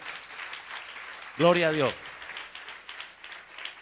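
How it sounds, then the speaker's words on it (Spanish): A church congregation claps in praise of the Lord, a steady rustling applause running throughout while a voice calls out briefly over it. "Dale un aplauso al Señor."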